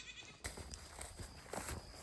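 Young goats bleat faintly while playing outdoors, a few short scattered calls and rustling over a soft ambient background.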